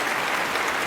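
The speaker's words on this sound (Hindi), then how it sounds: "मुझे तालियों की गड़गड़ाहट सुनाई दी" A burst of thunderous applause fills a brief moment, a dense, steady wash of many hands clapping together at close range with no voices over it.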